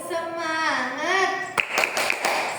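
Children's voices chant in a sing-song rhythm, then a few sharp, close hand claps land in quick succession near the end: a short 'tepuk semangat' clapping cheer in a classroom.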